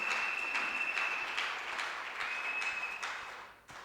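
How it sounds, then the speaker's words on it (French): A church congregation applauds during an evening service, a fairly quiet, continuous patter of clapping with a faint sustained tone running through it, tapering off toward the close. "nous applaudissons le Seigneur"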